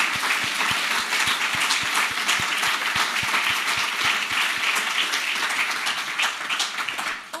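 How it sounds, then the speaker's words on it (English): Enthusiastic audience applause for panel members at a Fife College event, many hands clapping steadily and loudly with rhythmic sharp claps up front, tapering off near the end. "can I just ask for a round of applause for our panel members here"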